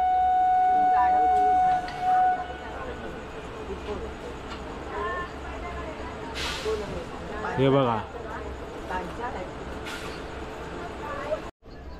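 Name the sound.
Tutari Express train departing from station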